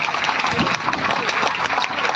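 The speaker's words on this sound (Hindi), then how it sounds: "एक विभाग के लिए आप जोरदार तालियां बजाओ" A crowd at a clerks' strike rally claps loudly and continuously, a dense, close, outdoor-sounding patter of hands with a few voices mixed in.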